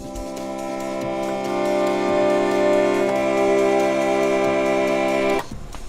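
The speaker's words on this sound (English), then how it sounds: "It's an additive synthesis digital sampler, and it sounds like this" Fairlight CMI, a 1979 additive synthesis digital sampler with eight voices, sustains a rich, bright held chord with many layered harmonics, playing alone and steady for about five seconds before cutting off abruptly.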